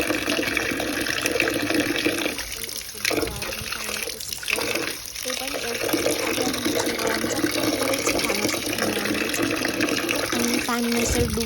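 Soaked beans being rubbed by hand in a bowl of water to loosen their skins, making a steady, close wash of sloshing and splashing with brief dips, while a voice talks faintly underneath.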